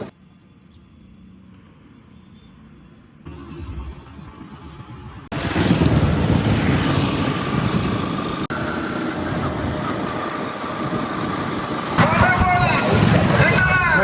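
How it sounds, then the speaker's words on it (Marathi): A new Yamaha FZS motorcycle on the road to Kharsundi, its engine droning under a steady rush of wind that grows louder partway through, with someone talking over the ride. "त्या FZS वरनं चाललोय पहिल्यांदा खरसुंडीला"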